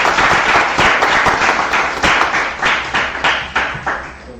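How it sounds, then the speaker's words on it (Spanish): An audience at a Spanish-language philosophy panel claps after a talk, dense applause with distinct individual claps, loud and close, fading in waves over several seconds. "Un aplauso para Esteban"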